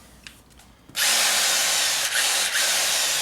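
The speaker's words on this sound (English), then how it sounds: "Now this goes in your drill motor." An electric drill whirs to life after a second of quiet, then runs steadily and loudly, with two brief dips in speed near the end.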